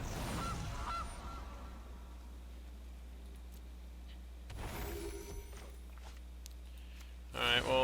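A goose honks in a card video game: a short, bright, nasal honk near the end, preceded by quieter game interface sounds over a low steady hum.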